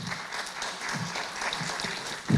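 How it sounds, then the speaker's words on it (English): Audience applause at a law association conference, a steady moderate wash of clapping heard from a distance with no talk over it, swelling slightly at the end. "I want us all to give a very special person a round of applause"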